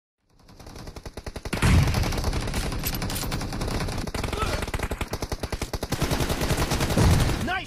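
Rapid automatic gunfire from a multiplayer shooter video game, sustained bursts of loud rattling shots running nearly the whole time, with a player's voice talking over the action.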